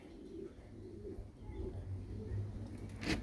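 Pigeons coo in low, soft, repeated murmuring calls nearby, with steady faint background noise and a brief brighter rustle near the end.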